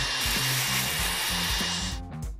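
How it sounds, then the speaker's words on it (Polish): A construction mixer runs loud and continuous with a harsh whirring drone and pulsing low rhythm, then cuts off abruptly near the end. "Mikser budowlany."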